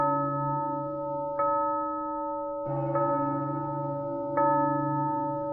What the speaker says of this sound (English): You hear the bells.